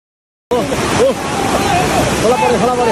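A flooded river rushes in a loud, continuous roar, with voices shouting over the churning water.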